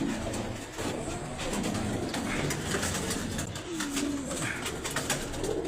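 Pigeons coo from a rooftop loft, soft repeated calls over a busy outdoor background with faint clicks and rustles.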